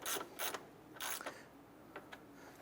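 Ratchet snugging down radiator mounting bolts on a 2008-2012 Honda Accord, a few quick bursts of clicking pawl strokes close by, then softer, sparser clicks at low level.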